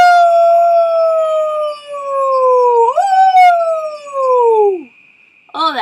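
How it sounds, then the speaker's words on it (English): A banshee's howl rings out alone, one long wavering wail that rises sharply midway, then slides down and fades, followed by a brief second cry at the end. "All that howling"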